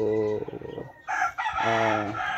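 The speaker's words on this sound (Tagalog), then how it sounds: "Yun yung rooster, ito po." A Silkie chicken rooster crows twice, each call a loud, close, drawn-out harmonic crow separated by a short gap, with faint clucking between them.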